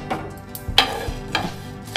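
Ingredients tipped onto a hot tawa to dry-roast for handi chicken, heard as a few short scraping and clattering contacts with a faint, soft crackle between them.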